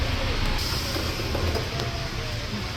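The JFK Airport AirTrain runs between terminals with a steady, continuous rumble and hiss from the rail car in motion. The sound stays close and even throughout, with no clear breaks.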